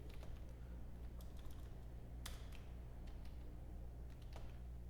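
Keys tapped on a computer keyboard while code is typed, scattered quick clicks in small bursts over a steady low hum, fairly faint and close.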